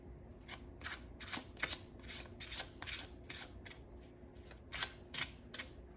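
Crisp riffling bursts of a card deck being shuffled, about a dozen quick rasping sweeps in steady succession, close up with no talking.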